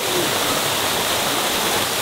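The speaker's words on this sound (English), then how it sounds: "Despite becoming a Moroccan Jimmy Savile, I still try to enjoy cold, refreshing environment of the waterfall." Steady, loud rush of a waterfall in Morocco, a dense continuous hiss of falling water with no break, heard alone.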